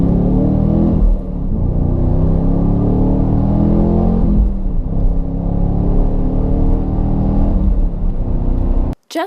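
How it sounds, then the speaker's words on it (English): A 2015 Chevrolet Camaro SS 1LE V8 revs up through a series of upshifts, loud and close, the engine note climbing then dropping at each shift before cutting off at the end. "Just listening to a series of upshifts, it's obvious that this thing is a beast."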